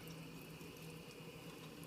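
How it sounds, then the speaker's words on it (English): Water running gently from a tap at a sink while wetting a coin before scrubbing it clean, a soft steady trickle heard close by and quietly, with no talking. "Usually I turn on the water a little bit, get wet."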